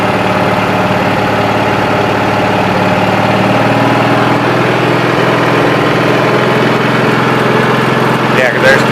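A 20-G engine idles in a loud, steady, unbroken drone with a low rumble and even vibration, shifting slightly near the end.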